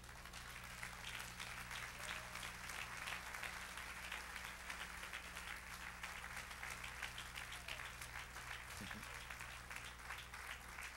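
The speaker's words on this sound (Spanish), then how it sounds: "Dale el aplauso al Señor." A large church congregation applauds steadily and continuously, a dense wash of clapping with voices faintly mixed in.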